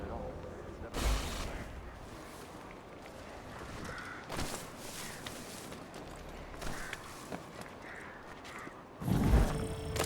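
Cannon fire booms in Assassin's Creed II, two heavy blasts about eight seconds apart with a few lighter thuds between, set against low ambient noise and distant activity.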